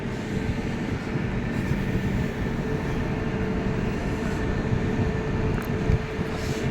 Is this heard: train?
yes